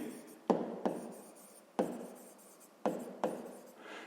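Pen strokes on paper while numbers are written down during a sixth-grade maths exercise, several sharp taps and short scratchy scrapes spaced irregularly, close and fairly quiet, with no voices.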